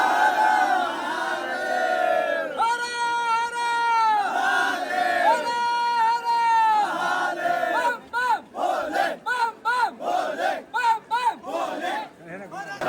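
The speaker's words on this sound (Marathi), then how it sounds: "भरपूर गर्दी आहे" A large crowd of pilgrims at Bhimashankar temple, many voices chanting loudly in unison with long sustained calls, then breaking into short rhythmic shouted chants.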